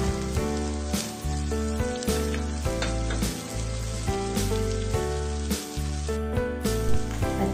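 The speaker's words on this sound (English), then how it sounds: "So you just saute it for 3 minutes." Marinated sisig sautéing in a hot pan, a loud continuous sizzle and crackle with occasional stirring scrapes, close and steady throughout, no voices.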